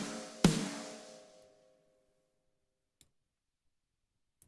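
A single layered snare drum hit with all sends and inserts muted cracks sharply and rings out for about a second, followed by two faint clicks in the silence.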